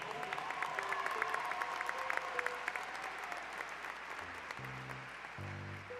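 Ceremony audience at a university baccalaureate gives a round of applause, steady broadband clapping throughout, with faint tonal music or voices layered in and low sustained tones entering near the end.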